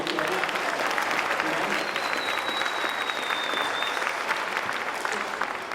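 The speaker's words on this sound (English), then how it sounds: "This kid here wants another round of applause just for him." An audience at a combined orchestra concert claps steadily for a sixth-grade student, a continuous crowd wash of applause with a thin high tone briefly sliding across it and a voice faintly under it.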